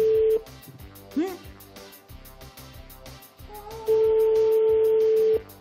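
A voice imitates a mobile phone ringtone, humming a sustained electronic-style tone in short bursts with a rising chirp between, over a background of rhythmic music and talk.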